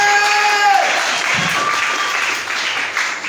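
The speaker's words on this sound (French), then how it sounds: "Est-ce qu'on peut acclamer encore pour les pères?" A church audience applauds the pastors at a worship service, a steady wash of clapping from a large crowd that stays full and even before tapering slightly near the end.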